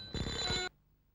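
A telephone bell rings once in a short, loud metallic burst that cuts off abruptly, leaving a quiet low hum, heard alone in a dubbed Hindi film scene.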